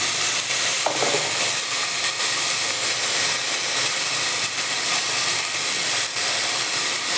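Red onion frying in a pan, a steady close hiss and sizzle running throughout with faint stirring scrapes.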